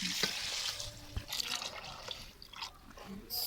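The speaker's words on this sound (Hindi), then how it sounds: "और अब मैं पानी डालूंगी" Water is poured into a pot of rice and mixed vegetables, a soft splashing and trickling stream with a few drips, close and moderately quiet.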